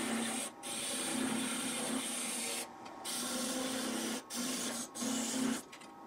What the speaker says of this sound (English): I'm going to use a planing cut with my skew chisel.